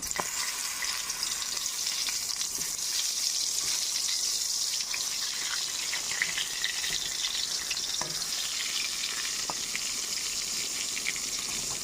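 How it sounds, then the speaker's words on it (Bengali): Eggplant slices fry in a pan with little oil, giving a steady, close, dense sizzle with occasional soft crackles, continuous and without talk. "এবার 5 মিনিট এই পিঠটি ভেজে নেব।"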